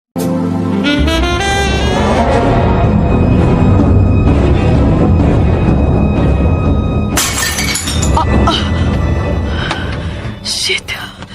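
A ceramic flower pot or vase breaks and shatters loudly, with crashing fragments at the start and a second burst of bright, scattering shards later on, while a voice reacts over the noise.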